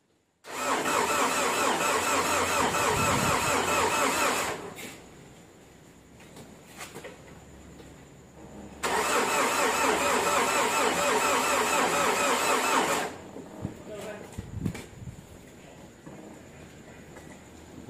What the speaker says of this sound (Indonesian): tes starter. Dah, hidup.